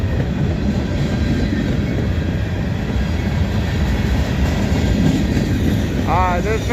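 A freight train of covered grain hopper cars rolls past close by in Abbeville, South Carolina, a loud, unbroken rumble and rattle of wheels and cars.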